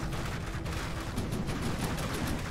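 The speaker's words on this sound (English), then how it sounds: "Those auto cannons just so deadly." Rapid auto cannon fire rings out during a ship battle in a video game, a dense run of sharp, repeated bursts over a constant rumbling background with no talk.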